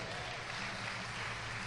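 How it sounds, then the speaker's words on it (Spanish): A church congregation applauds: a brief, dense and steady wash of many hands clapping, at an even, moderate level. "Dele otro aplauso."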